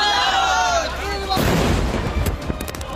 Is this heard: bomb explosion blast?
yes